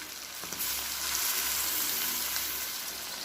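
Water poured onto duck meat frying in a pan, with a loud, steady sizzling hiss that swells after a moment and carries on without pause, close up and with no talking.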